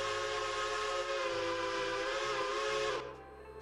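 A Star Brass 5-chime steam whistle in a railroad video game blows one loud, sustained chord for about three seconds, then cuts off abruptly, leaving a low engine rumble.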